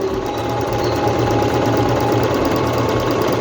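A Singer C5605 electronic sewing machine stitches fabric on a straight stretch stitch, running forward and back with a steady, fast mechanical chatter close up, loud and continuous without talk.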